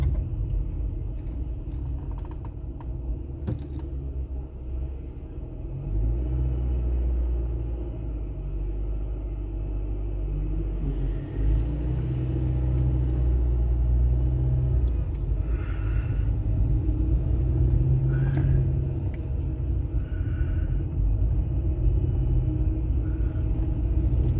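A car drives through busy town traffic at school time: steady low engine and road rumble throughout, with a light jangling of keys and faint passing traffic, no talking.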